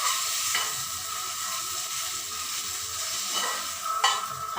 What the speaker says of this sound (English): Just take it and wipe it out nicely.